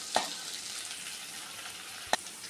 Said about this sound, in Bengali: বিনসগুলো ভাজা হয়ে গেছে, এবার আমি ক্যাপসিকামটা দিয়ে দিচ্ছি।